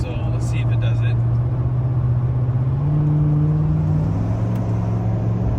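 Tuned and deleted L5P Duramax diesel pickup cruising at highway speed, a steady low engine drone with a tone that shifts pitch as it settles, accompanied by road noise under someone talking.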